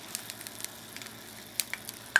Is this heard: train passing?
no